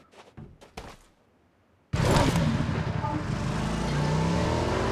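A car in a video game: a few short clicks and a thud, then a loud, steady engine roar that starts abruptly and runs without a break. A voice is faintly present.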